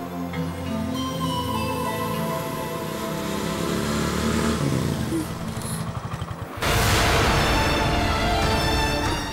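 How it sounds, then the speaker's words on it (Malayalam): A motorcycle engine drones as it draws nearer, rising in loudness over dramatic background music before a sudden louder burst. "ഒരു ബൈക്കിന്റെ ശബ്ദം കേട്ടില്ലേ അമ്മേ?"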